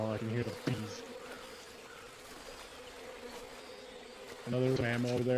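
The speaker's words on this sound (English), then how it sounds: "Oh, I can hear the bees." Bees buzzing in the video game Metal Gear Solid Delta, a steady droning hum that stays loud through most of the stretch. It swells noticeably toward the end, as if the swarm draws closer.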